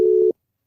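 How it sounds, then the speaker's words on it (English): A single short electronic telephone ring tone sounds loud and close on a call, then cuts to silence. "His phone's ringing."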